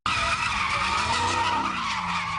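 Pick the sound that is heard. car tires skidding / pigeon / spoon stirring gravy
car tires skidding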